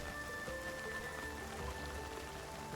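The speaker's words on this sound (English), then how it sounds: "Oh my gosh, it's raining." Steady rain patters on surfaces in the video game Infinity Nikki, a soft continuous hiss of drops with a faint tonal game hum beneath, quiet and unbroken.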